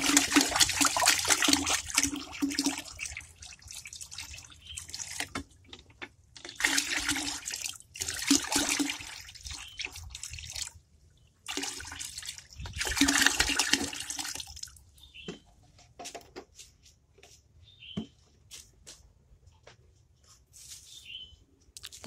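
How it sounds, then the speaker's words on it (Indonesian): Rice washing water, about five liters, poured from a container into another vessel while making a homemade microbial solution, giving bursts of splashing, gurgling liquid with short pauses between pours, close and fairly loud, no talking. "Ini pertama aku mau masukin dulu sumber karbohidratnya. Air cucian beras."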